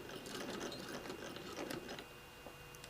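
Sewing machine stitching steadily along a seam allowance during garment assembly, a quiet, close, continuous mechanical whirr with fast needle ticks, faint overall.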